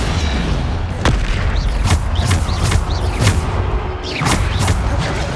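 Depulso spell cast in the Hogwarts Legacy video game: a run of sharp magical blasts and whooshing bursts, several in quick succession over a steady loud game backdrop.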